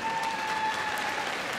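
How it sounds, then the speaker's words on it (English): Quiet, even applause from spectators at the Crufts 2016 freestyle heelwork to music competition, a soft wash of clapping heard at a distance with a faint steady tone running beneath it. "Give a round of applause."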